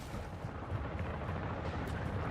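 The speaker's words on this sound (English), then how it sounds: "Friendly airstrike in the AO." Deep, continuous rumbling blasts from an airstrike in the video game Call of Duty: Modern Warfare II, filling the whole stretch at a steady, dense level without clear individual booms.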